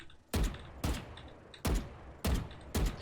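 Single tapped gunshots fire one bullet at a time in the tactical shooter VALORANT, five sharp separate cracks spaced roughly half a second apart, each with a short decaying tail, alone with no talk.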